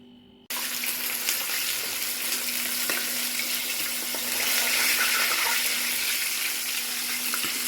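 Chicken leg pieces sizzle in a pan, a steady hissing fry that starts abruptly after a brief quiet moment and holds at an even, fairly close level with no one talking.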